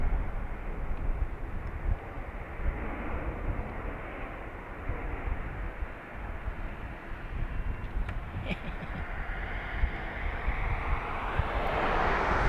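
An Antonov An-124 heavy-lift cargo jet at Dublin Airport, a broad, sustained roar of engines heard from a distance with wind buffeting the microphone throughout.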